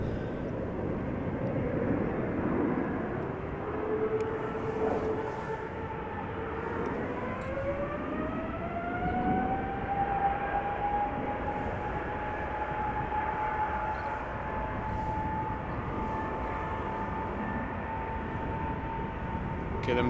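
An Airbus A737 airliner at Amsterdam Schiphol Airport passes overhead with a steady engine drone and a rising, sliding whine that levels into a sustained tone, moderately distant and continuous throughout.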